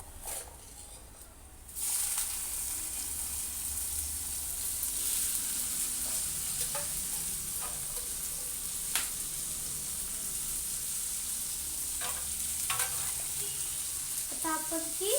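Vegetables with turmeric hit a hot pan and break into a loud, steady sizzle after a quiet start, with occasional scrapes and clinks of stirring.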